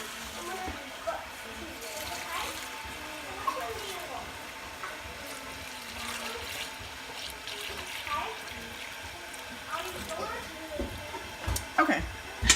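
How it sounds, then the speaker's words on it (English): Freshly obtained milk, about a gallon for homemade yogurt, pours into a double strainer filter with a soft, steady trickle under faint background noise, while a person talks over it. "now I'm going to pour the milk that we just got from her straight in here"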